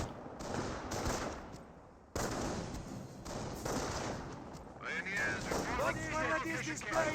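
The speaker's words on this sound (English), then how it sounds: "Sniper still taking some shots." Sniper gunfire in the World War II strategy game Company of Heroes cracks out amid a busy battlefield of mixed weapon fire and rumble. A cut shifts the mix midway, and chirpy higher sounds enter near the end.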